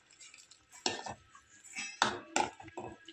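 A spoon stirs brinjal masala in a metal pot, giving a few sharp scraping clinks and knocks against the pot at close range, with quiet gaps between the strokes.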